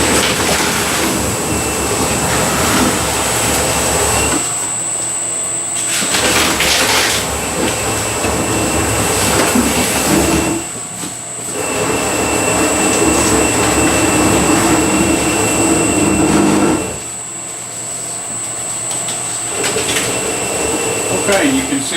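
A Cushion Pack CP316 S2i+ cardboard shredder runs with a loud, continuous roaring whir that dips briefly a few times, and a person talks over the machine noise.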